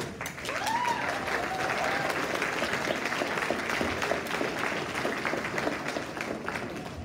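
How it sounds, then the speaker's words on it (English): Sustained audience applause at a 2023 red carpet film event, a dense wash of clapping from a large crowd filling the whole stretch at steady loudness, with faint voices mixed in. "please stand up so we can give them a round of applause"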